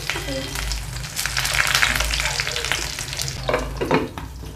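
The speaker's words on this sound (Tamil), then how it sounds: "ஃப்ரை ஆகட்டும், அது வரைக்கும் நம்ம வெயிட் பண்ணலாம்." Fish frying in hot coconut oil, Kerala banana-leaf meen polichathu style, a close, loud crackling sizzle with sharper pops and bursts throughout, no voices.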